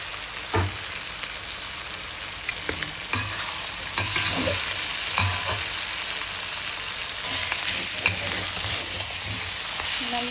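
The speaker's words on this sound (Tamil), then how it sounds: "நல்லா போட்டு நல்லா பெரட்டி விட்டுக்கலாம்." Mutton black pepper fry with chilli, curry leaves and coriander sizzles steadily in a pan while a spoon stirs and scrapes it, giving repeated knocks and clinks over the constant hiss.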